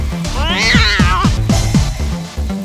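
A frightening-looking cartoon cat in a park lets out a loud, drawn-out, wavering meow, close and prominent over a backing of short repeated descending tones.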